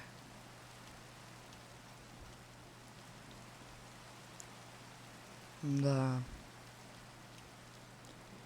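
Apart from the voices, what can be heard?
rain falling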